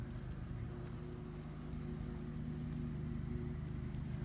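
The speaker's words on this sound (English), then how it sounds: "excuse the noise in the background there. My neighbor," A neighbor's lawn mower drones steadily in the background, a continuous low engine hum with faint jingling sounds on top and no talk.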